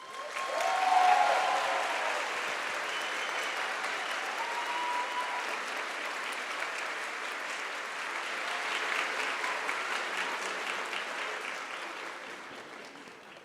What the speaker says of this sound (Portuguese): Eu queria que todos aplaudissem a entrada da Monja Coin